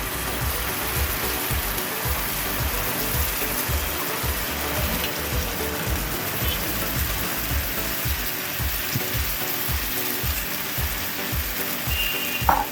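Small fasting-style upvas pancakes fry on a hot griddle in a little oil over low to medium flame, giving a steady, close, even crackling sizzle throughout with no talking.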